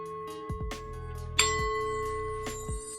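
A small Tuscan sound bowl struck once, giving a sharp metallic strike followed by a long, steady ringing tone that sustains for the rest of the moment over a low background hum.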